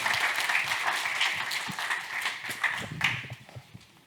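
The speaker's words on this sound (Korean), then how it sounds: "큰 박수 부탁드리겠습니다." Applause from an audience at a public-sector HRD teaching contest finals, steady clapping that fills the clip and tapers off toward the end, with no talk over it.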